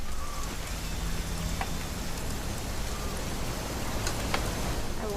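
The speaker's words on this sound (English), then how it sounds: "It's gonna rain the whole weekend, isn't it?" In What Remains of Edith Finch, a constant wash of rain falls, dense and even, with faint scattered drips and ticks and no voices.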